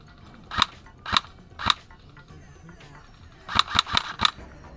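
Airsoft gun firing BBs during a skirmish game at an outdoor field, heard as sharp, snappy cracks: three spaced shots, a pause, then a quick burst of four or five, close and loud over faint background.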